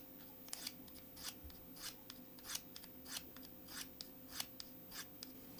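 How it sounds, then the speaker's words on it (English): A knife blade is drawn across a corundum stone held in a 3D-printed holder with a 20-degree ramp, producing a steady series of about a dozen close, rhythmic scraping strokes, each a short gritty rasp, with no talking. "you can sharpen the knife."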